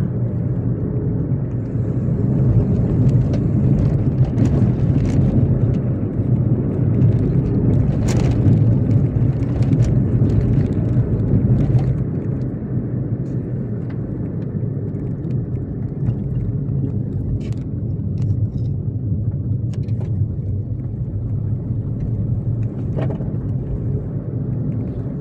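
A guest's car rolls in and parks, its low engine rumble close and steady at first, then easing to a softer idle, with a few faint clicks and knocks on top.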